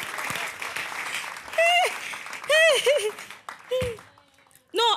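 Audience clapping for a comedian at an African stand-up comedy festival show, a crowd texture heard beneath loud, animated voices and laughter that break in repeatedly over it.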